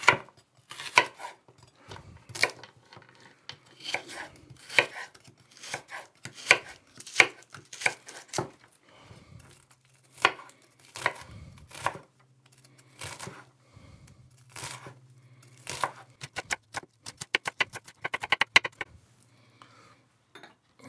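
A knife finely chopping a stick of celery on a board makes rapid, close knocking taps in bursts and irregular runs, with short pauses and a faint low hum in the middle.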